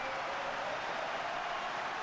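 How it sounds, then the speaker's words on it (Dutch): Stadium crowd in Eindhoven applauding Ajax striker Patrick Kluivert during a match against PSV, a steady dense wash of clapping and cheering from a large distant crowd throughout. "Applaus voor Patrick Kluivert in Eindhoven."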